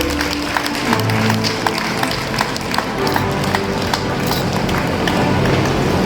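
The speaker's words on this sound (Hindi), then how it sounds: "तालियों में कमी नहीं होनी चाहिए।" An audience at a coaching institute's parents orientation program applauds with continuous, even clapping that holds for several seconds at moderate volume, with no talk over it.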